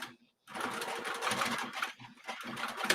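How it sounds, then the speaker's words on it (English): A sewing machine runs a long basting stitch in a steady, fast mechanical whir. It starts after a brief pause, stays close and clear, and dips once before resuming. "Stitch length is the longest stitch length on your sewing machine. And you're going to stitch that in at 1/8 of an inch."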